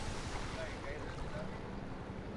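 A speedboat in the video game GTA Online runs across open water with a steady engine drone, spray and wind rush, continuous and fairly close.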